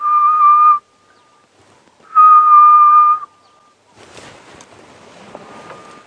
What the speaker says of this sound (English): in Afrikaans that is called the spookvoël, or ghost bird